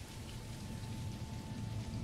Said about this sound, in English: Now we've got the rain.